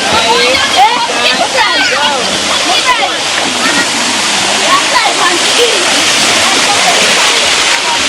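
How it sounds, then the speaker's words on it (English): A kids' waterfall at a vacation spot pours continuously, a loud, dense rush of splashing water filling the whole stretch, with excited voices and chatter faintly audible underneath. "Clean up the kids' waterfall."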